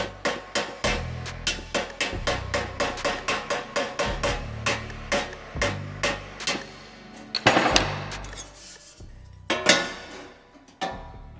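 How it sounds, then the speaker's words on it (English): Hand hammer planishing a welded sheet metal panel, a steady run of sharp metallic strikes about two per second, close and clear, ending with a few scattered heavier blows and a brief grinding-like rasp. "Just gonna hammer a little bit more."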